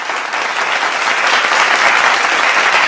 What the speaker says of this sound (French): Donc on applaudit Tiad, s'il vous plaît